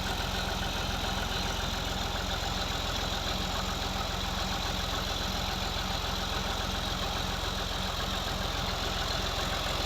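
A Fiat 480 tractor idles steadily with no load while driving a water pump in Punjab, Pakistan, its engine a continuous, even mid-to-low drone that stays loud and unchanged throughout, with no voices.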